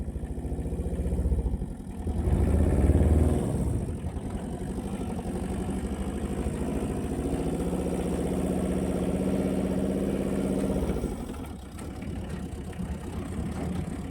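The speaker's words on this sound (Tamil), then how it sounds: "வண்டி வருது" A motor vehicle engine runs steadily and fairly loud along a sugarcane road, with a louder surge near the start, a long even drone, then a slight drop near the end.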